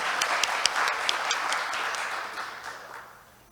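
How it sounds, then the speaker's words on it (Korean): Audience applause at a candidate debate for the Gyeonggi-do architects' association presidential election, a short burst of clapping from a seated crowd that fades out toward the end. "큰 박수 부탁드립니다."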